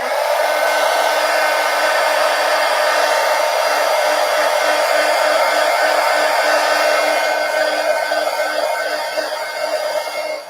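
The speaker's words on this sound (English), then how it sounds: "Let me hit it with the heat gun." A heat gun blows steadily over wet watercolor paint in a sketchbook, a loud, constant whooshing roar lasting the whole stretch and easing slightly at the end.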